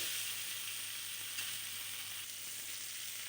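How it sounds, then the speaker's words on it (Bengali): Chopped tomato fries and is stirred in a pan for a thin Bengali lentil-nugget and drumstick curry. The sizzle is a steady, fairly quiet hiss that carries on without pause. "দিয়ে দেব টমেটো কুচি। কিছুক্ষণ এভাবে নেড়ে চেড়ে"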